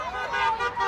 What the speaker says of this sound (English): Chicago Ford workers like Daniel and Craig hearing constant honks in solidarity their first day on the picket line